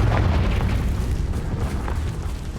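A Confringo fire spell explodes in the video game Hogwarts Legacy, giving a loud, sustained booming rumble that rolls on for the whole stretch with no speech.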